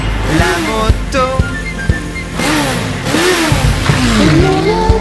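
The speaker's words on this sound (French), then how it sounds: "la moto" A cartoonish motorcycle engine revs in a French children's song about vehicles, with loud swooping pitch rises and falls repeating several times over a light musical backing.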